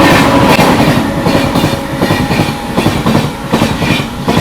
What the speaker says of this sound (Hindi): ये देख लो पूर्वा एक्सप्रेस हावड़ा न्यू दिल्ली।